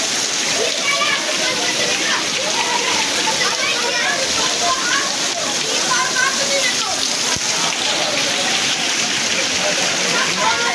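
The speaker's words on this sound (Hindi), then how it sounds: "पूरा कमर के ऊपर लेवल से पानी जा रहा है।" Waist-deep floodwater rushes through city streets in Bhayandar after torrential Mumbai rain, a continuous loud sloshing and splashing flow close by, with voices talking over it throughout.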